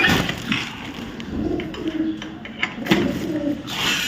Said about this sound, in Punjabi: ਇਹ ਨੇ ਸਾਡੇ ਪਰਿੰਦੇ